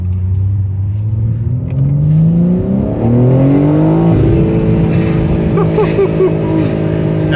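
A 2025 BMW M4 Competition xDrive coupe launches hard, its engine note rising loud and continuous through the gears with brief shift dips, close and dominant with no talk over it.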